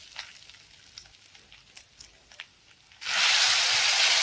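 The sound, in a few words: stirring and frying raw papaya curry with chili powder in pan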